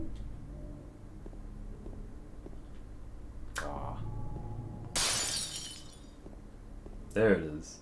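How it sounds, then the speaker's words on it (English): Sudden loud glass shatter as a jump scare in Silent Hill 2, a bright crash that bursts out over quiet ambience and then trails off, followed by a short sharp clatter near the end. "There it is. The breaking glass jump scare."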